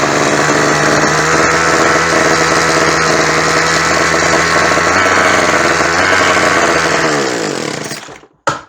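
A small engine runs steadily after a carburetor tune-up and new spark plug, a loud, even buzzing drone that holds for about seven seconds and then cuts off abruptly.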